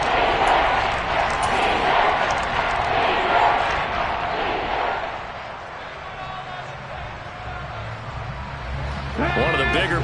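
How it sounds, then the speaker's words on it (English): A big American football stadium crowd roars and cheers ahead of a key third down near the two-minute warning. The noise is a loud, dense, continuous wash that dips slightly midway and then swells again. "the crowd getting into it as we come up on a big third down"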